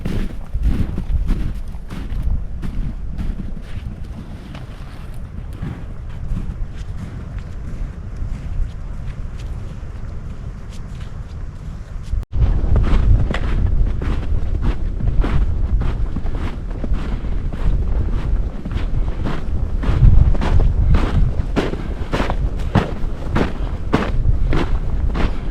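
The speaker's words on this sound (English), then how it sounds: "So it's a little breezy today" Gusty wind on a cold, breezy Appalachian Trail hike buffets the microphone in a continuous loud rumble that strengthens midway, with rhythmic crunching footsteps on the trail.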